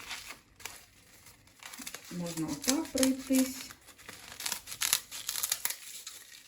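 Several quick snips of scissors cutting through crisp sheets, with crinkly tearing sounds, close by and under a woman's speech.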